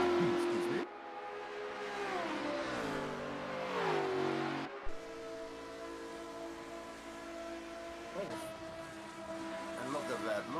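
Group C race cars powering out of a corner at around 230 km/h, engines rising and falling in pitch as they accelerate and pass, with a commentator talking over the engine noise throughout.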